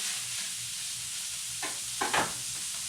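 Steaks brown in a hot pan with a soft, steady sizzle hissing throughout, joined near the end by a couple of brief scraping or stirring clatters close by.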